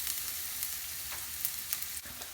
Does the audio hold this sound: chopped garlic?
yes